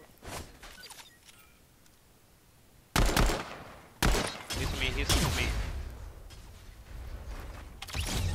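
Video game combat plays out as bursts of rapid gunfire and blasts: quieter shots early on, then loud heavy bursts at about three and four seconds, followed by sustained firing that fades off and picks up again near the end.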